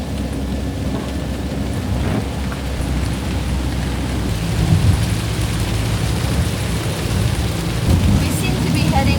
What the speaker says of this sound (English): We seem to be heading further into whatever storm this is.